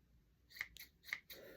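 Spring-assisted scissors trim quilt batting in two quick snips with crisp close metallic clicks, followed by a soft rustle of fabric in a quiet room.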